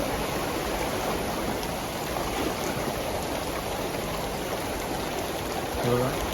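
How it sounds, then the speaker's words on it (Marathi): Forceful floodwater from heavy rain rushes through Satpati village near Mumbai, a constant loud wash of flowing water with no break. "आपल्या गावामध्ये देखील पावसाच्या पाणी जो साचलेला आहे त्याचा फोर्स आहे"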